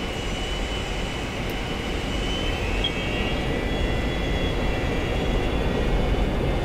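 Douglas DC-9 jet engines, on a 1976-built airliner, spool up to takeoff thrust, heard from the cockpit as a steady, loud, broadband roar with a high whine that holds throughout.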